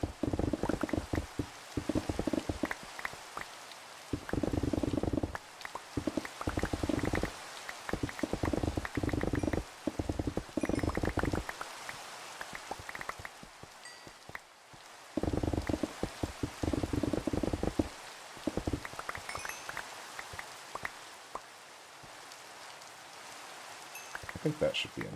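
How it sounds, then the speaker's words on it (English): Steady rain falling in Minecraft during cave mining, a continuous hiss with choppy, pulsing bursts that come and go, fairly loud and close throughout with no talking. "I really wish it would stop raining."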